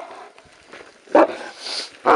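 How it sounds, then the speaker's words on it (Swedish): A dog barks in the distance during a tense outdoor confrontation, with a few short, sharp bursts and a louder bark near the end over faint background noise. "Du hör ju hunden i drift."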